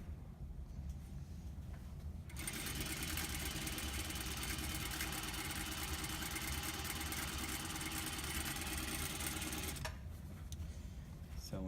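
A sewing machine stitches down a skirt seam with a half-inch seam allowance. Its steady, even whir starts after about two seconds, runs for roughly seven and a half seconds, then stops.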